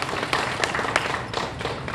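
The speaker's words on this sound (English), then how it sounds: "yes, you may applaud that" A Consumer Day audience applauds in a short burst of close, uneven clapping, with individual sharp claps standing out from a steady patter.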